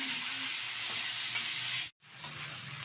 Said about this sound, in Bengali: এবার ভালোভাবে সবজিটা আমি ভেজে নেব তেলের সাথে।